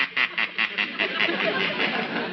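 Duck quacking as a sound effect in a 1951 radio comedy, about ten evenly spaced nasal quacks in a steady rhythm, close and clear.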